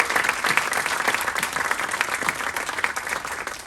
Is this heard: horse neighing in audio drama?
no